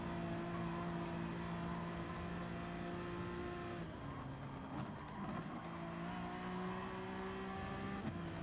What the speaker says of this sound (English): I hit the rev limiter